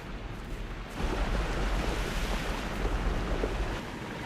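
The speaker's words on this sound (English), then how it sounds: "no other factory in the world mixes its chocolate by waterfall" A rushing chocolate waterfall in a film's chocolate factory gives a steady, full roar of falling liquid with low rumble, swelling after the first second and holding at an even level, with no talking.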